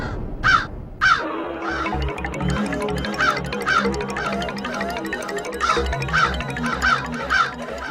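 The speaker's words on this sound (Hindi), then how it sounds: "सुनने में ये कौवे की आम सी काव काव लग रही है" Several crows caw repeatedly in harsh rhythmic calls, close and fairly loud, over a low pulsing background throbbing.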